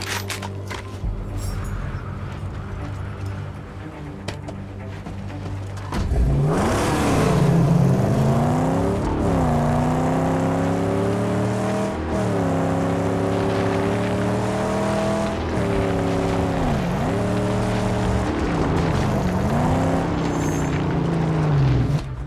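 A car engine in the Mad Max video game drones loudly, rising and falling in pitch as the vehicle accelerates, shifts and revs across rough terrain, with no talking over it.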